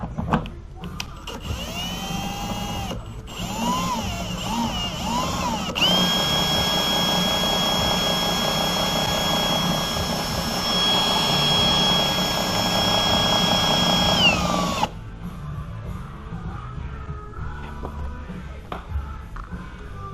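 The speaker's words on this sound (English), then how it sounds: "Okay, we're going to use the driller." A power drill runs on a Toyota Tacoma during rear glass removal, a loud steady whine that holds for several seconds and then cuts off, with workshop noise before and after.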